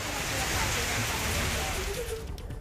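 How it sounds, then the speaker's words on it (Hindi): Heavy rain with strong cyclone winds in Ranchi, a loud wash of steady hiss and roar that thins out near the end. "रांची में बारिश के साथ तेज हवाएं चल रही हैं।"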